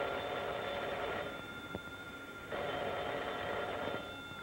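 An old telephone bell rings in a 1940s Mexican film scene in two sustained bursts with a pause between them, steady and moderately loud over a hissy background, with no voices.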